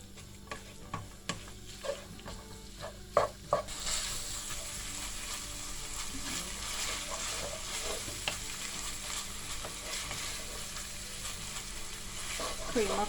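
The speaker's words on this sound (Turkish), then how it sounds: "Şimdi böyle karıştıra karıştıra kavurun." Kibbeh filling stirred and fried in a pan, a steady broadband sizzle swelling after a few early scrapes and knocks, with spatula scraping running throughout at close range.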